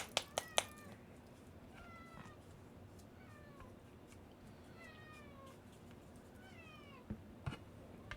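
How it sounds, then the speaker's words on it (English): A pet cat meows repeatedly, a string of short rising and falling calls spaced through the stretch, fairly close and clear, with a few sharp knocks at the start and near the end and no talking. "Chatty cat."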